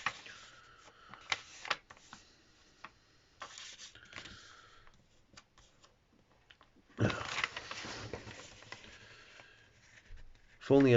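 A sheet of paper is creased and folded into an origami packing box, with soft crinkling, sliding and tapping close by while a voice speaks at times.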